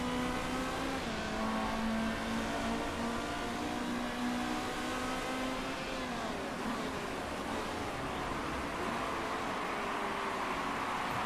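Race cars in Motorsport Manager, engines droning and shifting pitch as they lap a circuit, a steady dense roar with the tones rising and falling as the cars pass.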